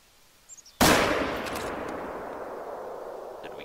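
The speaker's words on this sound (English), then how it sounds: "let's go ahead and shoot this one." Rifle shot at a red deer in theHunter: Call of the Wild, one sharp loud crack after a few faint clicks, followed by a long rolling echo that fades slowly across the open landscape, no talk.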